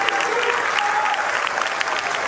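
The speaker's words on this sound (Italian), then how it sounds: "Un lungo e fragoroso applauso ha accompagnato l'ingresso della bara bianca." Long, thunderous applause fills a cathedral as the white coffin of a 21-year-old enters his funeral in Sicily, continuous and even from start to finish.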